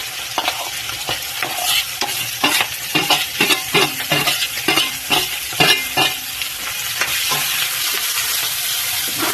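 Onions being fried and stirred in a pan give a loud, steady sizzle, punctuated by a rapid series of rhythmic spatula scrapes and clacks through the middle before settling back to constant frying.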